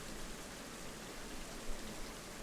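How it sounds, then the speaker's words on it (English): Rain falls steadily in the Planet Zoo video game, a soft, even hiss of dense drops with no breaks, faint and continuous throughout with no voices. "it's kind of hard to see in the rain"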